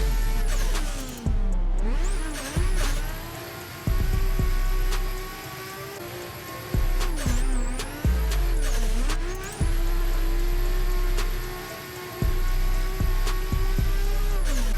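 Nissan S14 with a locked differential, tuned for drifting in Assetto Corsa, roars through laps with loud sustained engine revs that rise and fall at each shift and corner, broken by brief pauses. A high whine and tire noise ride over the engine, and no one talks.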